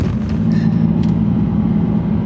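2022 G82 BMW M4 launching hard from a stop sign, a loud, low, steady engine rumble heard up close, with a few faint ticks above it.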